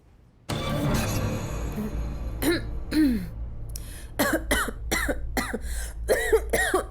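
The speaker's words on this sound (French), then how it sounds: "Mais tu tousses, ma chérie." A throat clearing is followed by a run of short, harsh coughs in quick bursts, close by, over a low steady hum.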